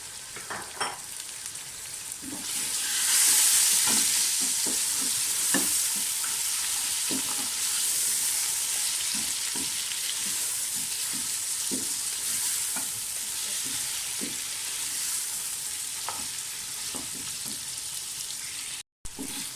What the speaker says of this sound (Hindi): गोश्त को भूनते हुए मुझे 5 मिनट हो गए हैं।